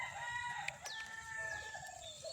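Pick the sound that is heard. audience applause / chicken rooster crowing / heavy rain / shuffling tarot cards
chicken rooster crowing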